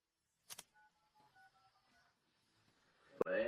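A telephone number is dialed: a quick series of short, clear beeping keypad tones at a steady pace, preceded by a couple of clicks and followed by a sudden louder burst of noise.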